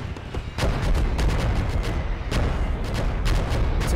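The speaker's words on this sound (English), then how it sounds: "I don't know how long our artillery lasts for, but I'm just gonna let it do its job." Artillery fire from the video game Myth of a Tiger (OstFront): a dense, continuous barrage of booming gunfire with repeated sharp blasts, loud and sustained throughout with no talking.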